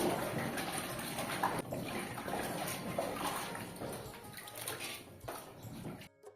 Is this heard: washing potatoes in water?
yes